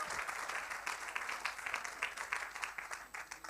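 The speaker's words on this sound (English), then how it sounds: "Another round of applause, please, for Nonhlanhla and Sakiwe" Audience applause for a duet at a live theatre awards ceremony, a steady dense wash of clapping that holds at an even level throughout.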